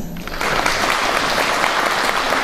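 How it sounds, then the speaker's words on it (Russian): An audience at a Mother's Day celebration applauds warmly. The dense, even clapping runs for a couple of seconds without pause. "Да, конечно, аплодисменты."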